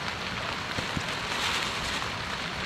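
Rain falls steadily outdoors at night near water, a dense continuous hiss of drops with a few faint taps, close and even throughout.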